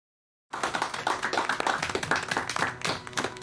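A small group claps in a TV drama scene about a religious revival, with uneven, moderately loud hand claps in a rapid, irregular rhythm that starts suddenly after silence and continues throughout.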